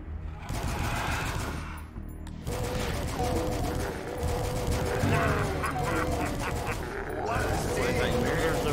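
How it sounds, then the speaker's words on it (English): Mortar and other weapons firing in Doom 2 played with Dusk's weapon set, a dense continuous barrage of blasts and explosions layered over game music and shouting voices. "The range on this mortar is fucking nuts!"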